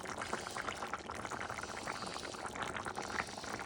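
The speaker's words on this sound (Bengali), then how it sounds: "আলু পেঁয়াজগুলোর মধ্যে এখন আমি এই ট্যাংরা মাছগুলো ছেড়ে দেবো" Tangra fish dropped into a pan of potatoes and onions, giving a steady loud sizzle and bubbling that runs continuously and close throughout, with no talking.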